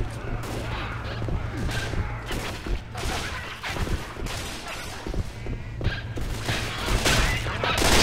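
Repeated gunfire from the zombie shooter Left 4 Dead 2, a steady stream of close, sharp shots with brief pauses, heard alongside a constant low in-game drone and occasional voices.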